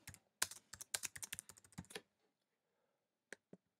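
Fingers tap a computer keyboard in quick, irregular bursts while typing into veterinary office software, then fall quiet, with two isolated key presses near the end.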